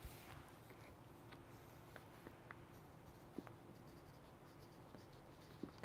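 A pencil scratches softly on paper in short, uneven strokes against a low background hum. The sound is quiet and close, with an occasional tap or click.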